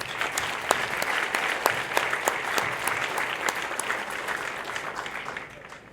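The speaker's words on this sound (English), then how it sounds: "give yourselves a round of applause as well" Audience applause at an Air Force basic military training graduation ceremony, a steady dense wash of many hands clapping that holds at full strength for several seconds, then eases slightly toward the end, with no voices over it.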